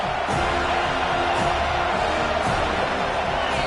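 A stadium crowd roars in an ear-splitting welcome to a visiting team, a dense, loud wall of cheering that holds steady with scattered whoops.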